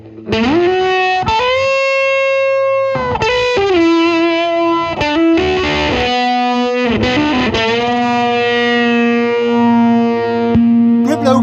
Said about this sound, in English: So how does it sound with the phaser?